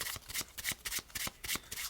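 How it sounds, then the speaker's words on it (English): A deck of playing cards is shuffled close up, a quick run of crisp riffling bursts in a fast, even rhythm, fairly quiet with no voices. "now we're going to shuffle this card right on in"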